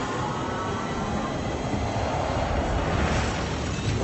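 Steady rumbling rail noise of a tram ride in the Deadpool VR video game, a continuous rolling clatter with faint high squeal, loud and constant throughout without talk.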